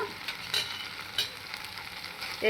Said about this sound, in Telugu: ఇది ఐదు నిమిషాలు అయిన తర్వాత మళ్ళీ కలుపుతున్నాము